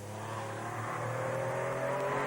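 A modern Porsche rally car competing on the Jersey Rally, its engine droning loud and steady with a rising rev toward the end, close by and continuous throughout.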